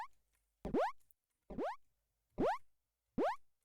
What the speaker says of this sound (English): That jumping sound was good.